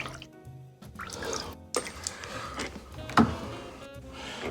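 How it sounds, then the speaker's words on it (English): Water trickles and drips faintly through a faucet supply line as built-up pressure drains after a valve is reopened, with the hot water shut off to the water heater; soft irregular drips and a low wash. "We'll open this valve back up. Let this pressure drain down."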